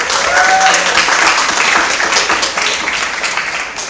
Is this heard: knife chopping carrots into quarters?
no